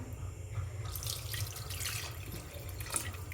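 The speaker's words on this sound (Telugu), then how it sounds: "ఇందులోనైతే మనం వాటర్ వేసుకుందాము" Water runs steadily from a tap into a pot of cooked, mashed lentils for ridge gourd dal, a continuous splashing pour with a low rumble underneath, no voices.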